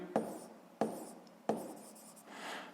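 A pen writing on paper while working a sixth-grade maths exercise, heard as three sharp taps each followed by a soft scratching stroke, then a longer faint scribble, close and quiet with no talk.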